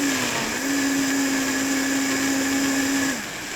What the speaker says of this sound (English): Anytime I use a blender with liquid, I like to cover it lightly.